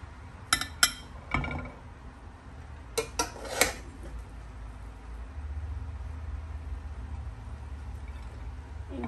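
Serving utensils clink against a pot and plates while chicken biryani is dished out in a home kitchen, a few sharp metallic taps early and mid-way over quiet background hum.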